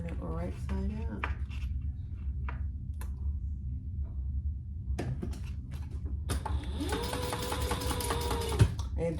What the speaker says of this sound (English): let's just sew the sides and the bottom